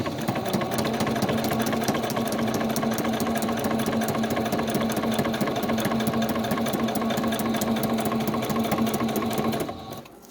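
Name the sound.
sewing machine stitching journal tags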